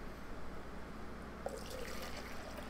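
Water poured into a cup, a soft continuous trickle and splash under a steady background hiss, fairly faint and without talk.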